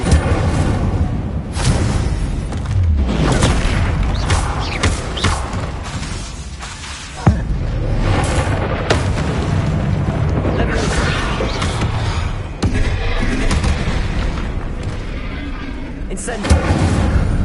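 Incendio fire spells are cast repeatedly in the video game Hogwarts Legacy, loud whooshing bursts and thumps amid combat effects, with a voice shouting over the noise.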